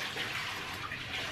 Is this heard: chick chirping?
no